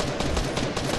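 Rapid gunfire in the video game Fortnite: a dense, loud burst of shots packed together over about a second, with no talk.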